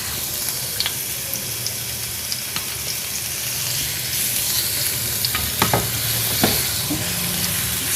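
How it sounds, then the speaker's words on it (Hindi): Half a tablespoon of chopped garlic fries in hot oil with a bright, steady sizzle, with a few sharp clinks and stirring scrapes near the end. "तेल गर्म होने के बाद इसमें हाफ़ टेबल स्पून चॉप किया हुआ लहसुन डाल देंगे"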